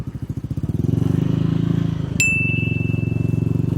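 A motorcycle engine revs through its exhaust pipe at a steady, loud, pulsing idle that rises slightly, with a sharp metallic ring partway through.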